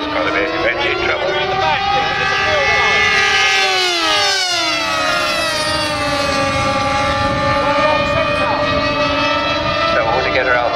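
A Velocity 50 RC model aircraft engine at a BMFA display team show gives a continuous high whine whose pitch bends up and down as the plane passes. A commentator talks over it through a loudspeaker.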